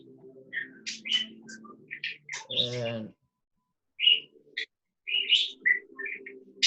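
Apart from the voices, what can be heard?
pet bird chirping in the workshop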